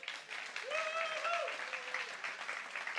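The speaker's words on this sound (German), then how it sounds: "Applaus." Audience applause at a science slam, a continuous mid-level wash of clapping from a crowd, with a brief whoop or cheer-like voice rising over it early on.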